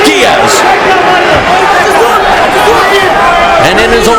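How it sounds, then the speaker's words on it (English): A partisan crowd in a Miami fight arena roars steadily for Nick Diaz, a loud, dense wall of cheering and chatter that continues without pause. "the partisan crowd here in the United States in Miami cheering Nick Diaz"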